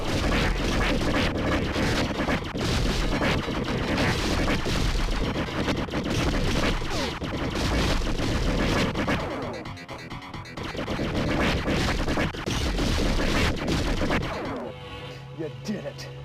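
Dense, continuous bursts of arcade-style gunfire and explosions from the video game Sewer Shark fill the whole stretch, loud and chaotic with game voices mixed in.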